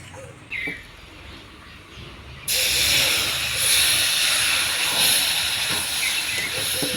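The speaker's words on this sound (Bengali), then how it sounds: "অল্প অল্প করে জল দিব আর সুজিটাকে ভাজতে থাকবো।" Semolina roasting in a pan for upma bursts into a loud, sustained hiss of sizzling and steam as water is poured in, following a few quiet seconds of dry stirring.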